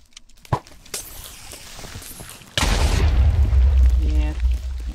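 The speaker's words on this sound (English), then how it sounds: "Yeah, another explosion." A sudden, loud explosion in the video game Dissent bursts in after a few faint pops and thumps, then rumbles on as a heavy, sustained roar for the rest of the moment.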